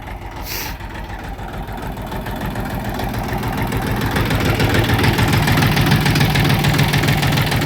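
A Kentavr 244SX tractor with a KM385VT-72S diesel engine runs loud and close, its steady knocking chug building slightly in strength throughout, with no talk over it.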